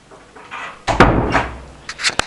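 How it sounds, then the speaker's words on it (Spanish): A door is pushed shut with a loud, close thud, followed by a rattling decay and a few sharp latch clicks. "Cerraremos la puerta."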